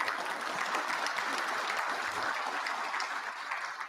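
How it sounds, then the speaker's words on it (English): Banquet-hall applause at a tractor pulling awards dinner for the champions' supporters, a dense, steady roar of many hands clapping at moderate distance, continuous throughout without speech. "Let's give a big round of applause to all of those that supported our champions here tonight."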